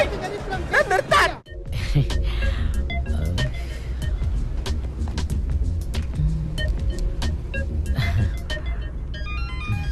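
A car pulls away with a low engine rumble that continues beneath people talking, along with a few short electronic beeps.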